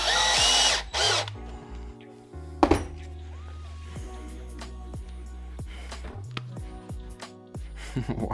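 A power drill driving screws into a sports bike tire to make an ice tire, loud close whirring bursts with a sharp clunk, then a long stretch of quieter clicks and clinks and short spinning pulses.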